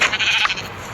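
Sheep in a Minecraft-like block video game give a single short bleat, clear and close, with no talk over it.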